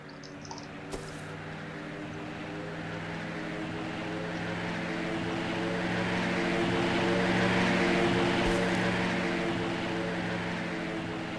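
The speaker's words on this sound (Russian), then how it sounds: "Пошел зеленый дым и ждем самолета на этом месте." A cargo plane passing overhead in the survival game Rust, a steady droning engine hum that slowly swells as it approaches and then eases off, with a faint click near the start and no talk.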